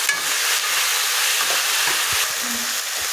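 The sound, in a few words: frying and stirring chopped greens with boiled potatoes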